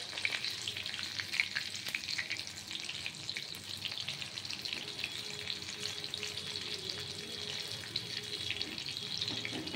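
Prawns fry in oil, giving a continuous bright sizzle with crackling pops and occasional stirring scrapes, close and fairly quiet, with no talking.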